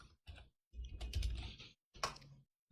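Typing on a computer keyboard, delivered as a few short separate taps and then a quicker run of keystrokes. It is close and quiet, with brief silences between the groups.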